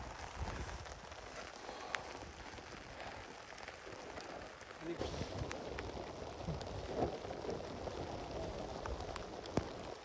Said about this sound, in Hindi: इतने जोर से बारिश होगी,